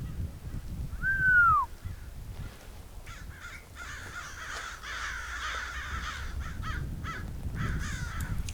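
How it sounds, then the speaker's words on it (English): A single harsh bird call rings out early in the Wadi Rum desert, then only a quiet, breezy hush with faint rustling remains. "Sometimes only hear bird or the sound of the wind."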